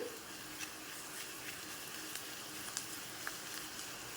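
Asafoetida powder sizzles in hot oil in a pan, a faint, steady crackling hiss with small scattered pops throughout, heard alone without talk.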